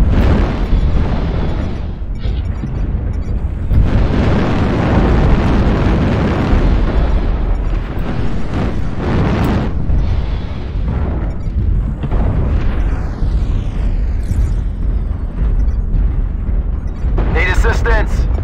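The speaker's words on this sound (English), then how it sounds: "Artillery strike online." Artillery strike explosions rumble in a MechWarrior mech combat game, a series of heavy booms and rolling blasts with a radio-style voice talking over them.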